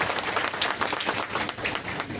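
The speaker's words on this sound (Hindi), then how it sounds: "एक बार जोरदार तालियां बजा लीजिए सर अपने लिए।" An audience at a direct-selling business seminar in India claps loudly, a thick, continuous burst of many hands that carries on for a couple of seconds.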